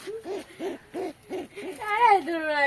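An aggressive domestic pigeon calling while held in the hand: a run of five close, rhythmic low hoots followed by a longer rising, warbling call.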